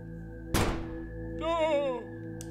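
A single sharp, loud gunshot in the video game Lambs on the Road, with a quick burst that fades out, then a tonal in-game sound swelling and dipping over a steady low background hum.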